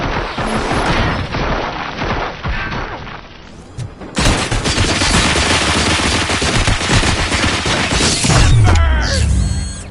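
A volley of rapid gunfire, dense bursts of shots and booming impacts, briefly dropping away before a loud renewed barrage that runs to the end.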